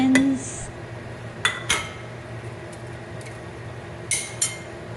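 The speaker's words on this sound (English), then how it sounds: "Just keep stirring all the dry ingredients into this pot of deliciousness" A utensil scrapes and clinks against a pot while dry spices, bay leaves and star anise are stirred into vegetables, with a few sharp metallic taps over a low, steady kitchen background.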